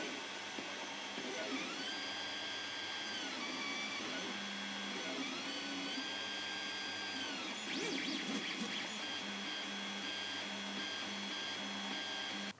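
An original Creality Ender 3 3D printer with a version 1.2 Creality board running noisily: loud stepper motor whine with sweeping rising and falling tones, a constant fan drone and mechanical buzzing, close by.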